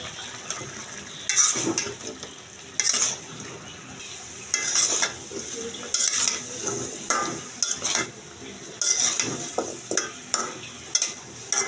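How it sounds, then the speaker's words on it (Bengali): Chicken pieces, potatoes and carrots go into a pan of lightly fried spices for a chicken curry, giving repeated bursts of loud sizzling with stirring and scraping at an uneven rhythm, close by and with no talk. "এবার মাংসগুলো দিয়ে দিচ্ছি আর দিয়ে দেব আলু আর গাজর"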